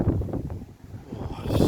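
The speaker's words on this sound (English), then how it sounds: "it's still windy" Gusty wind buffeting a microphone outdoors beside a MK3 Ford Fiesta, low rumbling swells that dip briefly and then rise again, close and fairly loud.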